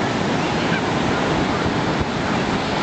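Ocean surf rolling in at Manly Beach on a sunny morning, a dense, continuous roar of breaking waves with some wind noise on the microphone and no voices.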